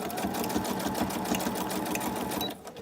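A sewing machine stitches zigzag on a paper roll, a rapid rattling chatter of the needle running loud and close before it briefly eases off at the end.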